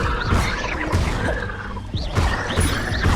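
Accio spell cast in Hogwarts Legacy, a dense whooshing magical burst with crashing impact layers, loud and close, swelling twice over a few seconds of busy game effects.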